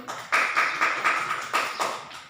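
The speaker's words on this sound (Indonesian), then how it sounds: "Tepuk tangan dulu." A few people clap in a classroom, a short burst of around eight quick, evenly spaced claps, close and distinct, with a brief pause before the last couple.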